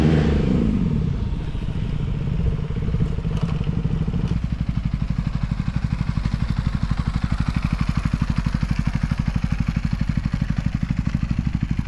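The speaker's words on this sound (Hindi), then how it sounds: "पहले bikes को unload करते हैं" Motorcycles idle and clatter with steady engine throb outside a government building during unloading for a stunt event, a continuous near rumble that shifts slightly around four seconds, with no clear talk.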